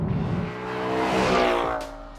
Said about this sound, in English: I love this Chevy small block. It winds and winds. It just pulls like a train.